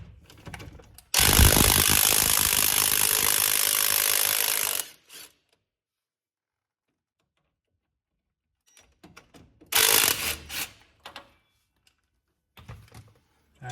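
A ratchet works loose bolts on a 2012 Ford truck in a long sustained burst of rapid clicking, then stops, followed by a few shorter bursts of ratcheting and handling noise with quiet gaps between.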